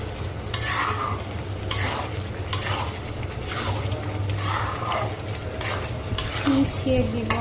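Chilies, including naga peppers, and spices being stirred in a frying pan while making pickle, with a continuous loud sizzle and regular scraping strokes of a spoon, close and alone.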